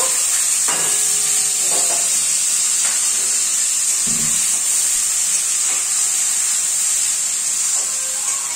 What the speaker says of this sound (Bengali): এখন এই যে কড়াইতে তেল দিয়ে জিরা ফোড়ন দিয়ে দিয়েছি, আর এই যে পেঁয়াজটা একটুখানি ব্রাউন করে ভেজে নেব।